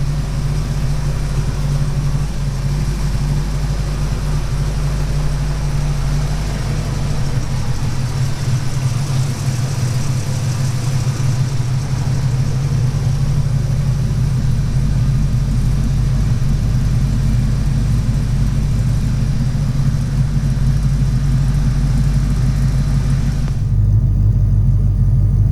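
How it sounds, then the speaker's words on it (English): A Foxbody Ford Mustang 5.0 V8 idling with a full aftermarket exhaust, a loud, deep, steady rumble that holds close and even throughout, with no voices over it. "there's a nice little sound clip for you at idle"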